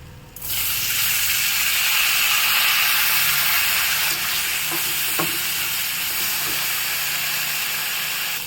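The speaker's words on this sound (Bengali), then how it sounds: "তো দেখো আমার অনেকটাই ভাজা ভাজা করা হয়ে গেছে।" Rice fries in a pan with ginger for an egg chilli and pointed gourd pulao, giving a loud, continuous close sizzle with a few scraping stirs partway through and no talk.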